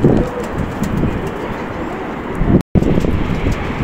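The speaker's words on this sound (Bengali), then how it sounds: "আর এই হচ্ছে কবুতর, আপনাদের কবুতর খোপের ভিতরে ঢুকে দেখাইতেছি।" Pigeons cooing inside a coop, a dense, steady chorus of low throaty coos close by, with one brief dropout near the end and no talking.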